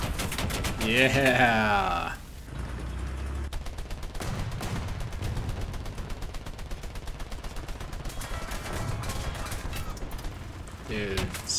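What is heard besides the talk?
tank gunfire in War Thunder video game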